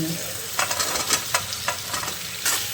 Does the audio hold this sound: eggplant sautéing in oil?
yes